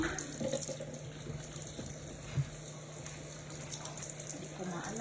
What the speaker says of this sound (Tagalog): so hugasan natin ito. Maghuhugas tayo guys.